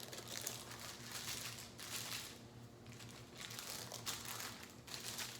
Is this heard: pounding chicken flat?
yes